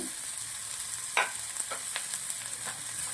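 Chopped green beans drop into a hot pan and hiss with a steady, bright sizzle, broken by a few soft clicks of stirring, and no voices are heard.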